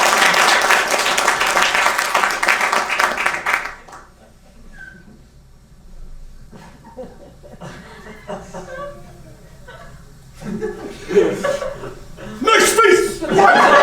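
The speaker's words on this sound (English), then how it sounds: "Let's clap for it." A live comedy audience bursts into loud clapping that fades after a few seconds, followed by scattered chuckles and laughter, then a fresh swell of applause and cheering near the end.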